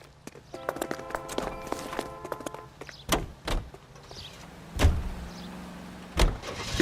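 A car door thumps shut and a car is started and driven off in L.A. Noire, with several heavy knocks and rising engine noise over a faint game score.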